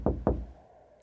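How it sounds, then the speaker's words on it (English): Two quick, firm knocks on a door, close and clear, followed by a fading resonance in a quiet room. "the janitor is awakened by the sound of his boss knocking on the door."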